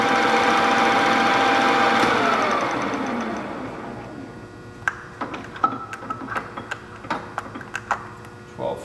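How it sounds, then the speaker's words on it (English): Deckel FP2 universal milling machine spindle running at 800 RPM, a loud steady mechanical hum that winds down after a few seconds, followed by scattered clicks and knocks. "we'll kick the speed up a little bit"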